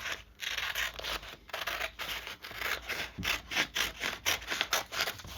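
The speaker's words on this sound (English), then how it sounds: "I'll cut the whole thing off using bigger scissors." Scissors snip repeatedly through material, each cut a short rasping crunch, in an uneven rhythm that quickens toward the end, close up.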